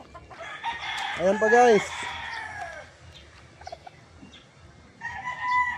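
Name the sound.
roosters crowing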